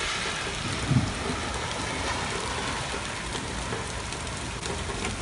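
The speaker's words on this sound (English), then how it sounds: "This is the rain in Fayetteville" Dense, continuous hiss of heavy rain falling in Fayetteville during Hurricane Florence, steady and fairly loud throughout with little wind, plus a brief low thump near the start.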